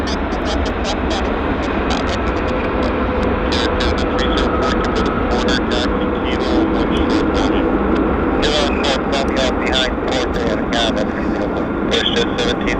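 A jet airliner at Vancouver airport takes off nose high with flaps extended, its engine roar steady and loud throughout under continuous talk.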